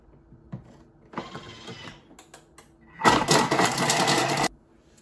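A Thermomix TM6 chops shallots at speed 5 in two short bursts, a brief whirring chop followed by a louder, steady blade roar lasting about a second and a half, close and mechanical.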